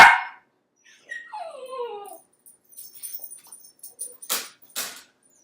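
A dog whimpers and yips in a rising, wavering cry, followed by a few short, sharper yelps close by, with no talking over it.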